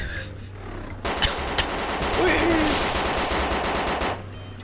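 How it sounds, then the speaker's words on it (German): Machine gun fire rattles in ArmA 2 DayZ, a dense sustained burst of rapid shots erupting suddenly and hammering on for about three seconds before stopping, loud and close, with a voice speaking briefly around it. "Die ballern mit MG auf dich"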